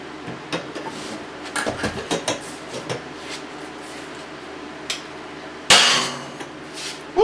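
A Harbor Freight ratchet, pushed with a pipe extension, breaks under load with a single loud, sharp crack near the end, after a run of small metallic clicks and knocks.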